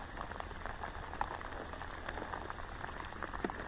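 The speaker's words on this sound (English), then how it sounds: "it's raining and it's horrible" Rain falling on a fishing peg, a steady hissing patter of drops across the whole stretch with occasional sharper taps, fairly faint and close, with no talking.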